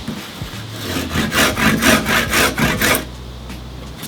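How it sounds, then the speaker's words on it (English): A hand saw cuts into wood with about eight loud, rhythmic rasping strokes close by, then stops and leaves a low background hum. "I could take this all the way down to depth just with a chisel, but I'm going to saw it down"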